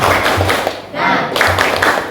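A class of students performs a rhythmic spirit clap together, bursts of group clapping in a steady pattern with a short pause in the middle, loud and close.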